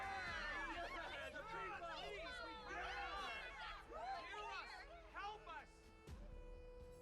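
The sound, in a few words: crowd murmuring in Honkai: Star Rail video game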